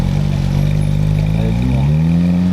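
A convoy of supercars climbs a mountain road at Chamrousse, a loud, close engine drone whose pitch climbs steadily as they accelerate.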